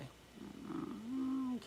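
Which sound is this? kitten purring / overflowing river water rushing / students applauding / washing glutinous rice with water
kitten purring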